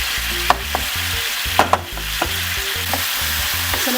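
Surimi stir-fried in a pan for spaghetti with mussels, giving a steady close sizzle with repeated scraping and clinking of a utensil against the pan, and no talking.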